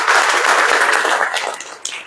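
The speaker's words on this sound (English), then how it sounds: "Another round of applause, please." Applause from guests at a farewell dinner in Cape Town, a dense burst of clapping that gradually thins and fades over a couple of seconds.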